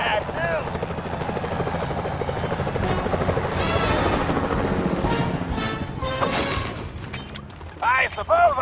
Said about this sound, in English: Those security choppers are bad too.